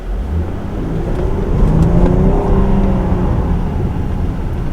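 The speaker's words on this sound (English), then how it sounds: "We're going to see about going kind of quick up to speed here." Steady, loud road and engine noise from a 2021 Jeep Grand Cherokee L with a 290-horsepower V6 as it accelerates up to speed, the engine note swelling slightly midway over constant tire and wind rumble.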